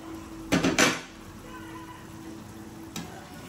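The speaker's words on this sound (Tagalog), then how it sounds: "Open natin yung takip guys." A metal lid clatters as it is lifted off a pot of boiling stuffed squid, two quick clanks close by, then a faint tap a couple of seconds later over a soft background hum.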